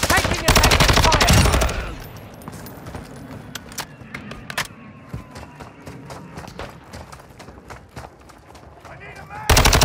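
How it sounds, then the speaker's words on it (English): Gunfire in Call of Duty Modern Warfare II DMZ mode: a loud burst of automatic fire opens, followed by scattered sharp shots and distant crackling, with radio chatter and voices in between and another burst at the end. "Taking effective fire."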